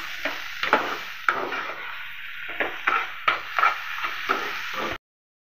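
Onions fried with prawns in a pan for a village-style garlic prawn dish, stirred with a spoon in a run of sharp scraping clatters over a soft, steady sizzle, ending abruptly.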